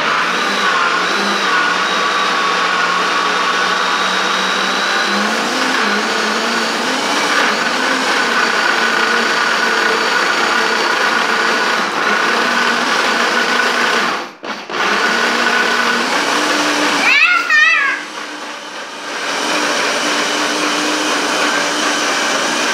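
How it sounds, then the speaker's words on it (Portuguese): A kitchen blender whirs steadily, mixing jabuticaba juice and cream for a mousse. The motor is loud and continuous and stops briefly twice before starting again, and nobody speaks. "Agora, nós vai bater eles aqui no liquidificador."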